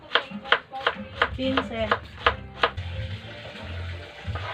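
A knife chopping radish on a board, about ten crisp, evenly paced cuts close by, followed by softer knocks and a brief spoken word.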